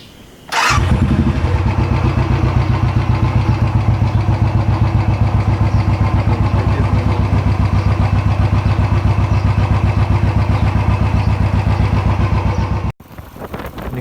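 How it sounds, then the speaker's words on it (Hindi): A motorcycle engine starts abruptly near the beginning, then settles into a loud, close, steady idle with an even rapid thump while warming up in the early morning, cutting off sharply near the end. "इंजन को थोड़ा वार्म अप करवा लेते हैं यहाँ पे"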